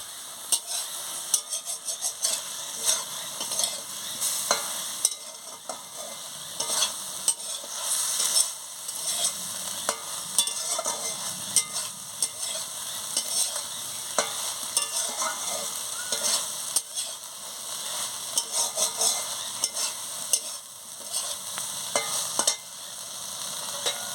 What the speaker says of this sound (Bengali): আর একটু নাড়িয়ে দিই, ভালো করে নাড়িয়ে নিই